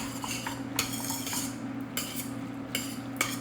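A spoon clinks and scrapes against a pan while stirring tagliatelle bolognese topped with parmesan. Several sharp metallic knocks and taps stand out close-up over a low steady hum.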